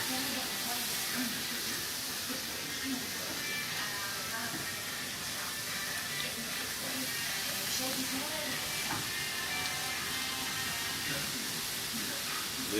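Mushrooms fry in a pan for a Turkish dish, giving a soft, steady hiss and sizzle that runs evenly and fairly quietly, with a voice talking over it.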